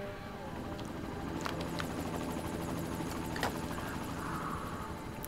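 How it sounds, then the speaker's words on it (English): A helicopter in the video game The Secret World, a continuous low rotor drone at moderate distance with a few sharp clicks and faint tones over it, no talking. "Look at that chopper."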